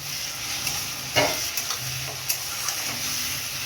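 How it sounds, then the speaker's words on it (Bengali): Green chillies and garlic sizzle in hot oil in a pan, a loud, close, continuous frying hiss broken by a few scraping stirs and small spatters, with no voices. "রসুনটা দিয়ে নাড়াচাড়া করে নিলাম। এবার কাঁচা লঙ্কা দিয়ে দেবো।"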